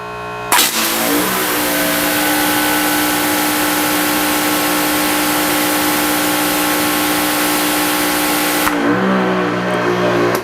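Ryobi 3000 psi electric pressure washer fitted with a 25-degree nozzle and 2.5 orifice, running steadily for several seconds with a loud, continuous motor and pump drone and a hissing spray, starting and stopping abruptly.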